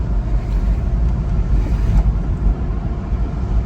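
A Porsche Boxster engine runs with a misfire, giving a steady, close, low rumble that continues throughout without any talking.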